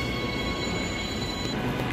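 A pair of coupled Transperth EMU electric trains pulls away from a station platform with a steady, moderate rolling rumble and faint high electrical tones, no voices.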